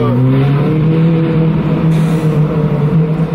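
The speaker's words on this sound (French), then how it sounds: "Tu vas voir le bruit quand on accélère dans les tunnels" A loud Ferrari engine roars close by, its deep droning tone rising as it accelerates, echoing inside a tunnel.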